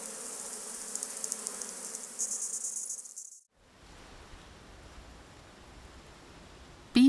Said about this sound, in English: This moth is one of the few insects to make a scream that is audible to human beings.